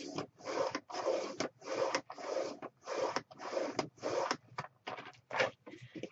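A paper cutter trims half an inch off each side of a 12 by 12 inch scrapbooking sheet, making about nine short, close rasping strokes in a steady back-and-forth rhythm with brief pauses between them.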